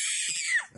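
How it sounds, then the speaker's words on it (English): A person screams in a sustained, high, piercing cry that holds steady for most of a second before breaking off abruptly, loud and close with no other voices. "Why are you screaming at me?"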